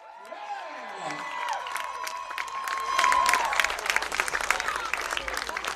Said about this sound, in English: Let's give a nice round of applause to the 2 best teams in New York State.